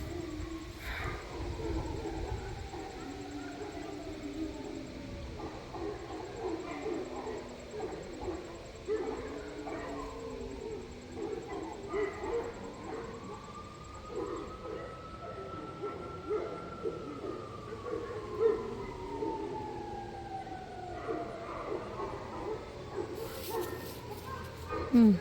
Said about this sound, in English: Oh, so we have a siren.